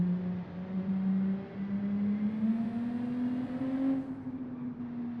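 A V6 car engine revs steadily, its droning pitch climbing gradually and then dropping back slightly, heard alone at moderate loudness.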